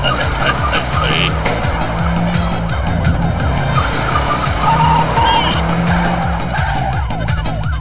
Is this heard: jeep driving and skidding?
yes